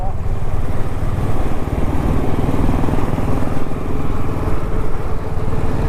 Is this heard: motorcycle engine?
yes